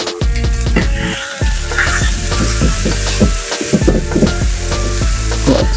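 One pound of ground turkey sizzling in a skillet while being spread with a spatula, a loud continuous crackle and hiss with scraping taps of the utensil, close up.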